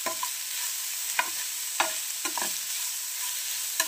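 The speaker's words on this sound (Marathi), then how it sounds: "थोडं लाल तिखट, हळद आणि स्वादानुसार मीठ आपण हे टाकून घेऊया आणि याला छान मिक्स करूया." A spoon scrapes through paratha vegetable filling seasoned with red chili powder, turmeric and salt, giving about five short, distinct stirring strokes over a soft, steady background hiss.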